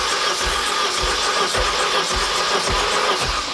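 A rare BMW M car engine runs steadily after starting, a loud close mechanical drone with regular low pulses and no talking.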